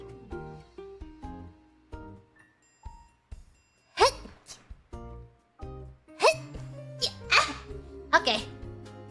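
A VTuber sneezes several times over background music, with sharp bursts near the mic mixed among short vocal outbursts and talk.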